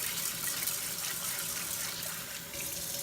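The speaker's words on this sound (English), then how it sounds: "So we're going to pour that off. That's the extra starch from the rice." Water pours steadily from a pot of rinsed rice, carrying off the cloudy starch in a continuous close splashing gush that stays even throughout with no talking.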